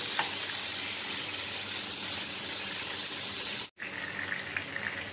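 Garlic frying in a pan for a pork chilli hotdog dish, a loud continuous sizzle close by with stirring, broken by one brief dropout before the hiss resumes.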